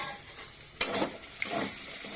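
Fried spice mix sizzles in a pan while being stirred, with two distinct stirring strokes scraping through a soft, steady frying hiss at a low, close volume.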